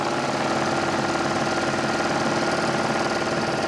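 A sewing machine stitches along fabric edges, a loud, close, continuous rapid mechanical chatter with a fast even rhythm throughout.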